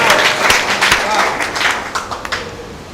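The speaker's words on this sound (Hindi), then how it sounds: "जोरदार तालियां, बहुत अच्छे।" Brief burst of audience clapping at a kavi sammelan poetry recital in Mumbai, heard in scattered claps beneath a voice talking over it, fading somewhat toward the end.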